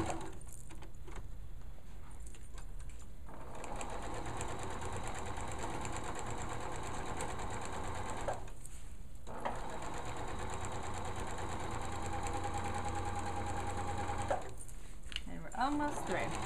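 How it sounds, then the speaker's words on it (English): A sewing machine runs a straight stitch along a shorts waistband, a steady fast mechanical whir interrupted by two brief pauses, with quiet talk in places. "basically you're just sewing a straight stitch"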